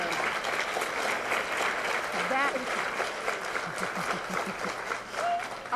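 A television studio audience breaks into loud, continuous applause and cheering, with people speaking over the dense clapping.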